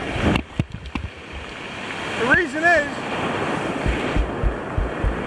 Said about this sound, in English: Here comes a set of waves.